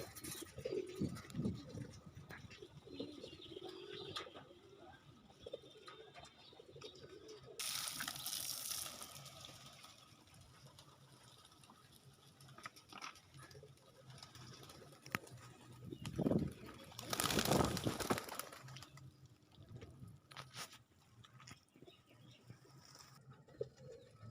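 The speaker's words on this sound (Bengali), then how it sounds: "কবুতরগুলো দেখেন কত সুন্দর খাবার খাচ্ছে।" Pigeons feed and coo, with low cooing calls heard through a quiet scene and two loud bursts of rushing flutter or wing noise standing out partway through.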